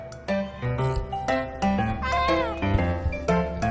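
A cat meows repeatedly, close and loud, in a string of drawn-out, wavering calls that rise and fall in pitch with barely any gaps between them.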